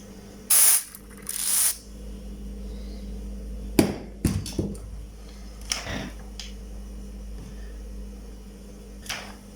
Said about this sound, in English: I will spray here this WD-40.